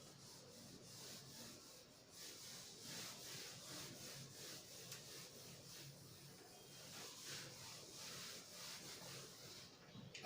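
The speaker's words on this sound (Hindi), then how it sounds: "तो चलो हम ये मिटा ही लेते हैं।" A board is erased by rubbing in a classroom, giving quiet, repeated scratchy strokes in a steady rhythm that continue for about ten seconds.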